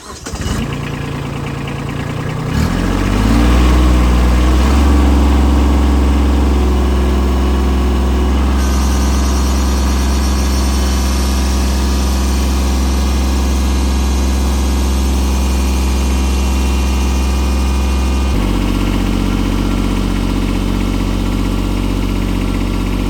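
A Kubota B2601 compact tractor engine turns over and starts, then settles into a steady, loud idle with a deep low rumble; the pitch drops slightly near the end.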